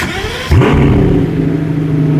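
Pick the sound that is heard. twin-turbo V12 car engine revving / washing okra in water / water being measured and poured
twin-turbo V12 car engine revving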